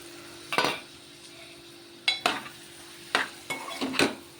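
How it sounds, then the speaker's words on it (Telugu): Marinated mutton sizzles gently in a pan of masala while a spoon stirs it, giving four or five sharp metallic scrapes and clanks against the pan over a soft, steady frying hiss. "ఇప్పుడు మటన్ వేసేద్దామండి మ్యాగ్నేట్ చేసి పెట్టుకున్న మటన్"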